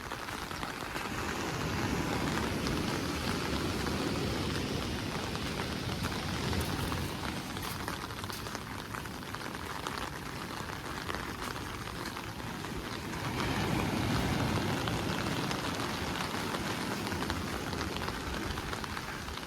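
Pouring rain at Hearst State Beach in California, a heavy, continuous hiss of drops drumming on surfaces, steady and enveloping throughout with a slight swell in intensity partway, no voices.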